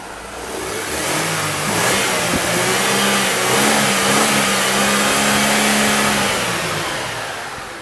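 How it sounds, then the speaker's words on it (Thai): A blue 2004 Mercedes-Benz W211 E200 Kompressor revs up from idle, its engine note climbing and holding a loud, steady rise for several seconds before easing back down, heard close and alone. "เดี๋ยวผมจะลองเร่งเครื่องนะครับ ให้ฟังเสียงเครื่องกันสักนิดนึงก่อนนะครับ"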